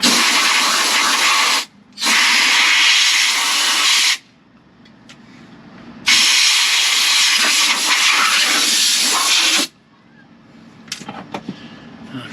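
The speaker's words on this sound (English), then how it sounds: "And now the air nozzle. Blow it out." A compressed air nozzle blows out the front spring area of a 1999–2007 Ford F-250/350 truck: a short hiss, then two long, loud blasts of rushing air separated by quiet gaps, with faint clatter after.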